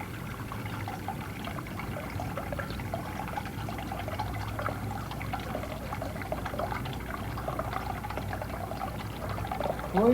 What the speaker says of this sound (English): When the water is slowly released from the bucket, this device lets the coil proportionately move slowly upward.